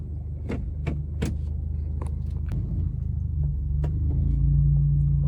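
A write-off Audi A5 S line is started with the key and left idling, a steady low engine rumble building slightly louder, with several sharp clicks and knocks from inside the car early on.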